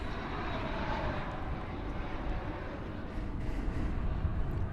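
A Volaris airliner with a pixelated tail roars down the runway on departure at DFW Airport, a steady, distant-sounding jet rumble filling the whole stretch with no talk over it.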